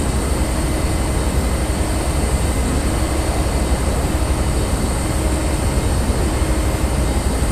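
A train runs at speed in Train Simulator 2020 on a countryside line toward Penzance, giving a loud, constant broadband roar and rumble of wheels and motion that holds steady without breaks or voices.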